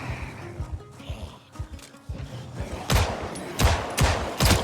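Rapid bursts of gunfire against zombies in Project Zomboid Build 42, scattered shots at first, then louder, sharper volleys toward the end, with thuds in between.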